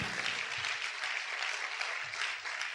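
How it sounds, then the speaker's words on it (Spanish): A church congregation applauds loudly and steadily, a dense wash of clapping that holds at full strength from start to finish with no voices over it. "Si ese aplauso es para el Señor, déselo fuerte"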